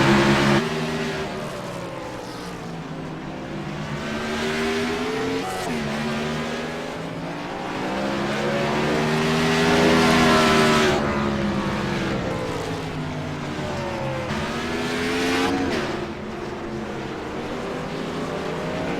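Race car engine held at redline along the straightaway just before a corner, a loud, sustained high-pitched whine with harmonics rising and falling as the revs climb, hold and ease through gear changes, close and continuous.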